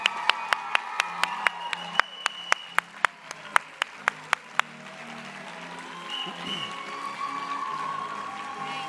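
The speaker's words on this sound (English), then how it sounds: "Let's give her a huge round of applause as we invite her up to the stage" A conference audience breaks into applause to welcome speaker Kimberley Welman to the stage. A few loud, evenly spaced claps open it before they swell into full, warm clapping that carries to the end.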